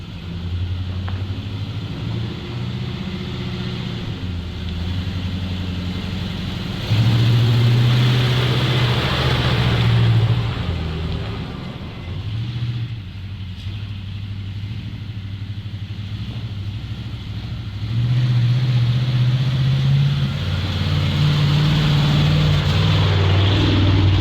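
A ZIL truck engine revs hard without pulling, a steady loud rumbling drone that swells and drops in pitch across several throttle surges, with no voices over it.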